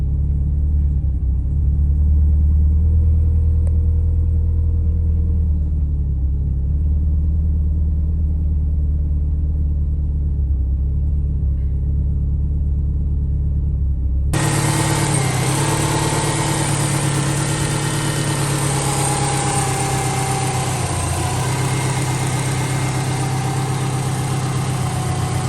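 A Subaru Impreza engine starts and settles into a steady idle, a loud continuous rumble that jumps abruptly in brightness and intensity partway through, then holds steady to the end with no talking.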